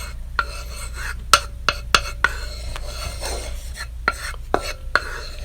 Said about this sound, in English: We're going to add 1/3 cup of fresh dandelion petals. And then we're going to stir it.